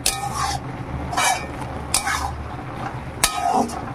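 Taro leaves are stirred as they cook in a pot, with bursts of metal clinks and scraping from the utensil against the pot over a low background hum.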